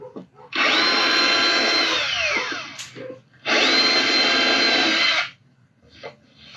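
A power drill bores guide holes into a melamine side panel in two loud, steady bursts of about two seconds each. Each burst spins up quickly and winds down, and quieter handling sounds fill the gaps.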